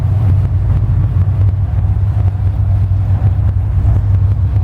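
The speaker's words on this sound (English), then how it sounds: "put both engines in forward. And we're only at idle" Twin engines of a 63-foot SonShip yacht idle at a boat show, giving a steady, loud low rumble that holds unbroken throughout, with some wind buffeting mixed in.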